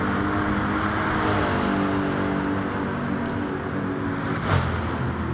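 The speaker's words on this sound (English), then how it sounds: "I want to hear these cars revving through." GT3 race cars on the Tokyo South Inner Loop drone steadily with layered engine notes, revving as they pass close by in a continuous, loud stream, with no voices.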